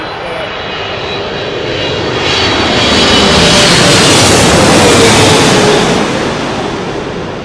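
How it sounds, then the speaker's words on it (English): Turkish Airlines Boeing 777 passing at the airport, its jet engines building from a rumble to a loud, close roar that peaks midway and holds, with faint talk beneath. "Turkish Airlines, it's Boeing 777, and surprise, surprise, it's from Istanbul."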